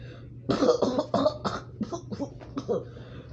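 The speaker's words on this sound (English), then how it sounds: "And he started coughing up more blood." A series of rough, wet coughs comes in quick bursts, close and fairly loud, trailing off into a few weaker hacks.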